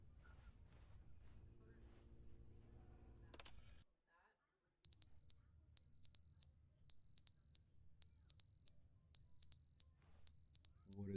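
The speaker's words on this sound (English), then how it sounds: "What is that beeping? Smoke detector?" Smoke detector in a home chirping in a steady series of short, loud, high beeps, about ten in regular rhythm after a brief lull, following a stretch of talk.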